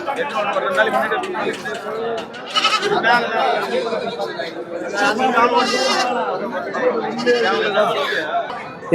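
Sheep and lambs bleat repeatedly at a busy goat market in Ranipettai, loud nearby calls overlapping with constant crowd chatter and voices talking throughout.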